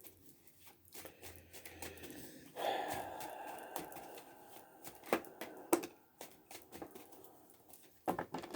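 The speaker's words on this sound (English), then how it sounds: "before I shuffle these cards." A deck of tarot cards is shuffled by hand, producing quiet, irregular riffling and snapping bursts with soft breathy sounds in between, close and faint.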